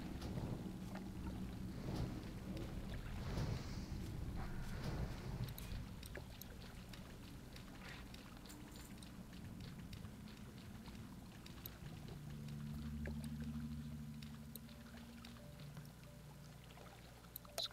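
A waterfall in Maraudon in the video game World of Warcraft pours in a constant broad rushing wash of water, steady and moderately loud with slight swells.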